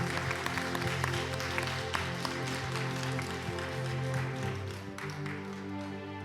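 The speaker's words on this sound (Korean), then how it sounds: "우리 주님께 박수로 감사와 영광을 돌리겠습니다." Church congregation applauding after a prayer at a Friday prayer meeting, a steady wash of clapping over sustained organ or keyboard tones, moderately faint and continuous throughout.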